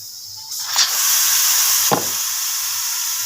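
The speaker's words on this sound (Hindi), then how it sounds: "मैं अब इसका प्रेशर खोलने लगी हूँ" A pressure cooker holding aloo methi lets off its pressure as it is opened, with a loud, sustained hiss of escaping steam and a knock partway through.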